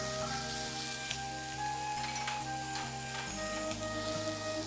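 Chopped green chilies hit hot oil in a pan while cooking avil poha, giving a steady, close sizzle and crackle that runs the whole time, with no one talking.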